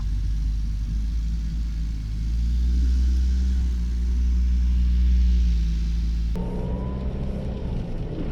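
A kei-class used camper van pulls away from a roadside rest stop on a snowy, windy night, its steady low engine rumble and road noise swelling and easing, close and continuous with no talk.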